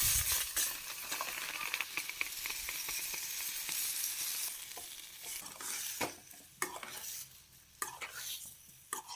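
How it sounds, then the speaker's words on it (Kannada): Chopped tomatoes fry in a pan for a mutton curry, with a constant sizzle and frequent spoon-against-pan stirring strokes, some sharp and clattery, heard up close. "ನೆಕ್ಸ್ಟ್ ಒಂದು ಪ್ಲೇಟ್ಗೆ ತೆಕ್ಕೊಂಬಿಟ್ಟು ಕಟ್ ಮಾಡಿರೋವಂಥ ಟೊಮೆಟೊನೂ ಕೂಡ ಹಾಕಿ ಹುರ್ಕೊಳ್ತಾ ಇದ್ದೀನಿ"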